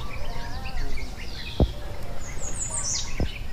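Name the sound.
kuling bird calling among fruit trees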